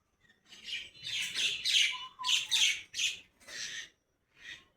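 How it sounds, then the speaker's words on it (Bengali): Birds call outdoors near young fruit trees: a run of about eight harsh squawking chirps in uneven bursts, fairly close and clear against a quiet background. "এদিকে পাখির ডাক।"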